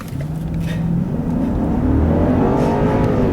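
A 2015 Hyundai Genesis 5.0 Ultimate accelerates hard in sport mode on a back road, its engine note rising steadily in pitch and growing louder, heard from inside the car.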